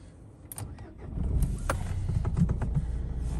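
A Dacia Duster Phase 1 engine is started after a few faint clicks and rustles; it cranks briefly, catches and settles into a steady close idle rumble.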